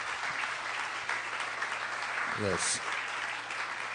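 A church congregation applauds during a Sunday worship service, with steady, dense clapping filling the space while a voice speaks over it.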